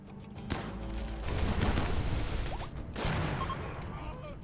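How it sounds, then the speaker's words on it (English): Incendiary launcher fires in a combat video game, a sudden loud burst followed by dense crackling gunfire and crashes that sweep through the scene before easing off. "What was that? Incendiary launcher."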